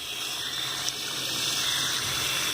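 Tap water runs steadily into a bag used for replanting Cattleya orchids, a soft even gushing hiss that holds throughout with no voices.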